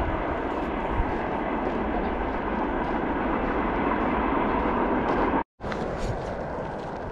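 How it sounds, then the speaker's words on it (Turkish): A train rumbles past near the railway station in Zarechnoye, Belarus, a loud, steady roar that fills the whole stretch, broken only by a brief dropout near the end. "Bu arada tren sesi geliyor."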